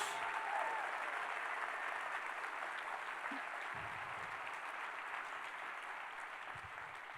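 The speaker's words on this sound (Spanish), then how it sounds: "¿Cómo es el aplauso para Jesús?" Faint, distant applause from a church congregation during a sermon, a soft continuous wash of clapping that slowly fades, with a few low thumps.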